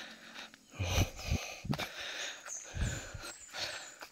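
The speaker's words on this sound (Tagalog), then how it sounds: "Hinihingal ako." Man breathing hard and out of breath after a long walk from the road, with a run of heavy wheezing inhales and exhales close up, uneven in rhythm, with no talk.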